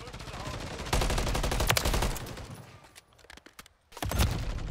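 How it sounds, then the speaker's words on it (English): Gunfire during a competitive 8s match on the map Vista in a video game, with rapid automatic bursts, close and loud, that pause briefly and then resume. "I'm getting shot from Burger, bro."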